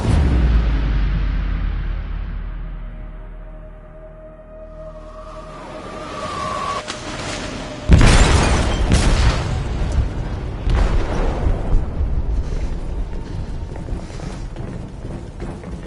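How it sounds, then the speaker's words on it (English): An explosive detonating in a ship's hold in the game Detroit Become Human, with a sudden heavy boom midway that follows a low rumbling swell, then a long roaring, crackling aftermath of debris and groaning metal. "They detonated an explosive in the hold."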